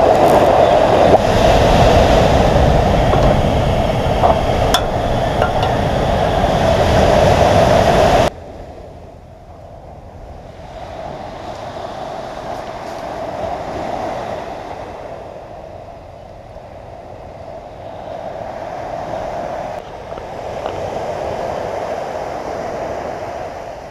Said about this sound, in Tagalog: Dito sa harapan ng mga alon.